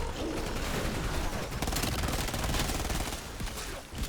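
Rapid automatic gunfire from a zombies video game keeps up a dense, loud burst nearly without pause, with a brief dip near the end.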